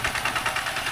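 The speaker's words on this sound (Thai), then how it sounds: "รถไถนาพี่น้อง" A Siam Kubota farm tractor engine running steadily nearby, a medium-pitched, evenly pulsing mechanical drone with a faint knocking rhythm and no voices over it.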